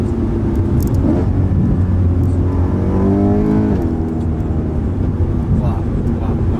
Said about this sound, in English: What really matters, really matters is that V8. Wow. And listen to those downshifts.